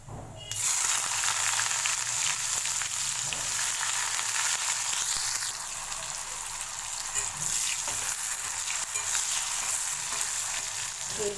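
Oil bursts into a loud, constant sizzle as chopped onions hit the pan after cumin seeds, frying steadily with faint stirring scrapes.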